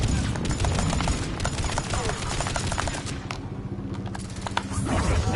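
Rapid gunfire during a firefight in the video game Mass Effect: Legendary Edition, dense crackling bursts of shots with brief lulls, loud and continuous, mixed with other game sounds.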